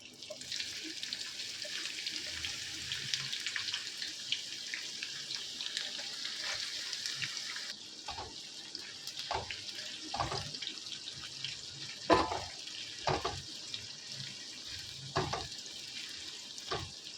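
Chopped onions frying in oil in a pan for a Bengali chicken kosha, added after cinnamon; a steady bright sizzle runs throughout, with periodic stirring scrapes and knocks in the latter half, close and continuous, no talk.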